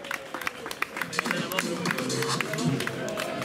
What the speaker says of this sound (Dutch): Mag ik uw applaus voor de laureaat van de dag?